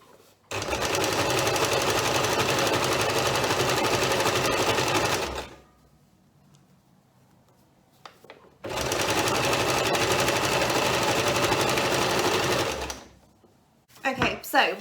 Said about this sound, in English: I am going to sew up this side to make it into a tube.